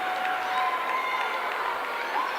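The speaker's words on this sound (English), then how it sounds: "The two seniors on senior night get a nice applause from the bench" Applause from the bench during a girls' high school basketball senior night, a steady, continuous wash of clapping and crowd noise with no breaks across the short stretch.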